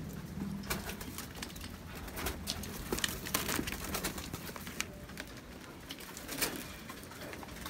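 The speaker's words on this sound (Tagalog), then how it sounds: "May mga kalapati natin, guys." Pigeons cooing softly in a group, their low murmuring calls mixed with wing flutters and scratchy pattering movements nearby.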